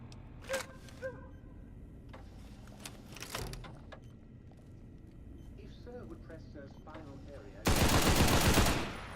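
A minigun from the game Fallout New Vegas lets off one dense, loud burst of rapid gunfire near the end, after quieter scattered game sounds.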